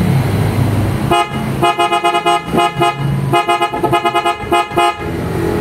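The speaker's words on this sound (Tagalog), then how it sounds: "Pakinggan natin mga boss yung tunog ngayon ng nakasabay na stock horn at Superior Bass Horn" A Hyundai Kona's stock horn blares together with a PIAA Superior Bass Horn rated at 112 dB, giving a loud, close, layered honk: one long blast, then a rapid run of short toots, another sustained blast and more quick bursts over an idling engine.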